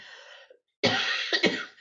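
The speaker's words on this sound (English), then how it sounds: "I have a cold, not COVID, so I apologize for coughing" A person with a cold coughs close to the microphone. A short throaty sound is followed by a pause, then a loud burst of two or three harsh coughs.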